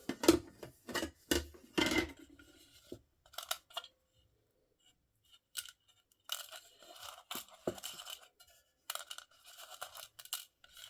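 Old, hardened rubber bands crunch and crackle as they are handled inside a vintage Schaub Lorenz Intercontinental 9-band radio, in close, faint, scattered bursts separated by pauses.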